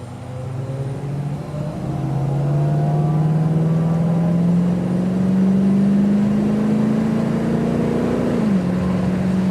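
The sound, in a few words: vintage 1965 Mustang fastback accelerating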